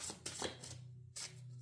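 Oracle cards being shuffled by hand, a soft papery riffling and rubbing in short bursts, close and quiet, with a low steady hum underneath and a brief pause before the shuffling resumes.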